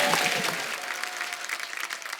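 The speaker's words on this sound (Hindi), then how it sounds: "जोरदार ताली हो जाए" A TV comedy-show studio audience on The Kapil Sharma Show breaks into strong, full applause, a dense wash of many hands clapping that stays steady and then thins slightly toward the end.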